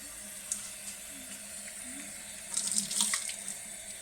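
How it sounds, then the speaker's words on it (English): Running tap water splashes steadily over hands being washed with antibacterial hand wash, a soft continuous hiss with a few brighter splashes near the end, no talking. "Make sure you're washing your fingernails."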